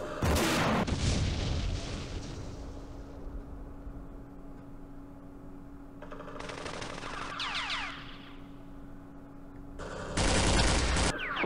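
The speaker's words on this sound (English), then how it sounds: "Shooting into a bunker" Gunfire and blasts aimed into a bunker in the Campaign Series Middle East war game: sharp bursts at the start, in the middle and near the end, with a steady low hum between them.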